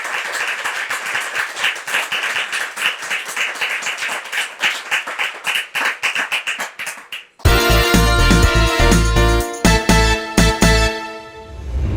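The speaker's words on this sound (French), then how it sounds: "On peut vous applaudir très fort." An audience at a church gathering gives sustained, dense applause for several seconds, then loud music with a steady beat comes in and continues while the clapping goes on over it.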